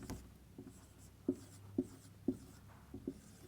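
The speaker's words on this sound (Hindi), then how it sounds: "चलिए एक संख्या लिखते हैं" Chalk or pen writing a number on a board during a class 6 maths lesson: a series of distinct, evenly spaced taps and short strokes, close and fairly soft, with no speech.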